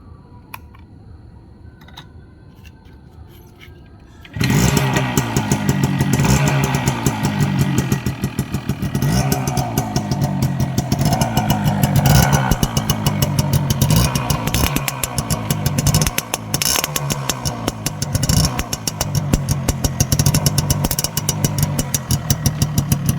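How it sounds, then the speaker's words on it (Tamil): A 1998 Suzuki Max 100 motorcycle engine starts after a few seconds of quiet background, then settles into a loud, steady, close idle with a rapid rhythmic putter that continues to the end. "நான் இன்ஜின் உங்களுக்கு ஸ்டார்ட் பண்ணி காட்டிடுறேன் வண்டி."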